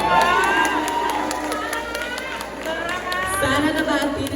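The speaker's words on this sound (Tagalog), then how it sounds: "Bakit di niyo po sabay-sabay palakpakan at hiyawan ang nag-iisang Sara" A crowd at a gay beauty pageant in Mondragon cheers and shouts for a contestant, a loud, busy mix of whoops, excited voices and chatter, with clapping likely buried in the noise.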